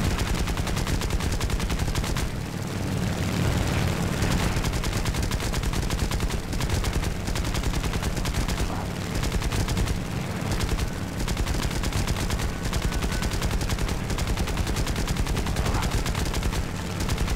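Rapid, continuous machine-gun fire from an A6M3 fighter aircraft in War Thunder, with dense, loud, unbroken bursts of gunshots lasting throughout and no talking.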